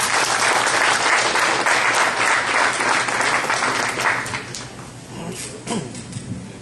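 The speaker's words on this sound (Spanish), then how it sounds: "a quien recibimos con fuerte aplauso" Strong applause from a gathered audience of judges and legal professionals welcomes a speaker to the stage, dense and loud clapping that thins out near the end as a voice begins to emerge.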